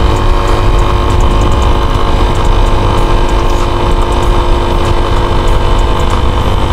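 An air-cooled motorcycle engine idles steadily and close by, a continuous low rumble with a faint irregular putter that holds an even level throughout, with no voices over it.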